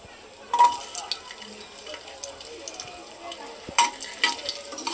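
Garlic frying in oil in a pan for khichdi, a soft steady sizzle with a few sharper stirring scrapes and clinks near the start and again toward the end, close and fairly quiet.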